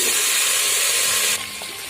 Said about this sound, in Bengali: এখন দিয়ে দিচ্ছি সবজিগুলো